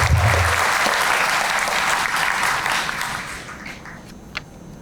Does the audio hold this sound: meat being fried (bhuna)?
no